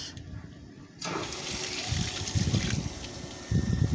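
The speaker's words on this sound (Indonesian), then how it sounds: "pompa kedengaran hidup" A booster water pump fitted with a flow switch runs: rushing, gushing water with a steady mechanical hum underneath, starting abruptly after a second and growing louder toward the end.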